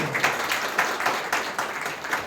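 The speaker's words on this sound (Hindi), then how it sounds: "फिर से एक बार विजय के लिए रियली ताली बजा सकते हैं और हमारी सारी म्यूजिक टीम के लिए" A church congregation claps in a steady, even rhythm for a musician and the music team, a dense, moderately loud patter of many hands with no voices over it.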